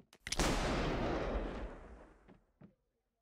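Gunshot in the card-cheating video game Card Shark, with a few sharp clicks followed by one loud blast that rolls and fades over about two seconds, then two faint knocks.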